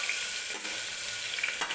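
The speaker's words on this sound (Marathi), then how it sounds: "तर आता कढईमध्ये कुकरमध्ये मी कांदा टाकून घेते" Finely chopped onions sizzle in hot oil inside a cooker, a quiet, even crackling hiss with a few brief louder spits, and no talking.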